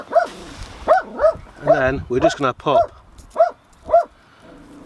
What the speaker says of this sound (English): seen a dog over there, so he's yapping